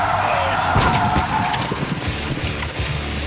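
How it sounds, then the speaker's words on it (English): A car in a driving-skills test performs a 180-degree handbrake spin-out, its tires skidding and screeching loudly across pavement with engine noise throughout the short burst. "Canada's worst drivers have learned how to do a 180-degree spin-out by pulling their handbrake"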